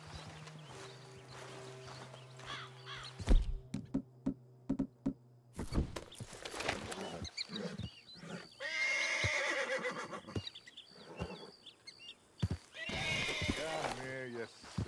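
A horse in Red Dead Redemption 2 whinnies and neighs several times in loud bursts, with hooves clip-clopping and people talking over it.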